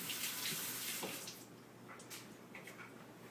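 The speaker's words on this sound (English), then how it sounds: "we're going to clean out the middle, rinse it." Running tap water pours over a red pepper as it is rinsed in a kitchen, a steady close splashing hiss with small bursts of spatter, heard alone.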